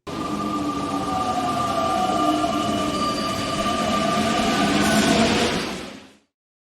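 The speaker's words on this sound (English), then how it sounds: "We're going on the train." A train runs close by with a loud steady rumble and faint metallic tonal whine, holding level for several seconds before cutting off abruptly.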